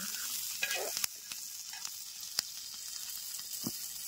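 Green chilies fry in hot oil with a steady close sizzle and a few sharp crackles and spatula knocks against the pan, and nobody speaks.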